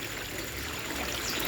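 Water from the fish tank streams out of an L-shaped tube into the center of an aquaponic radial filter tank at a tilapia facility, a steady, close, full splashing pour with no talk.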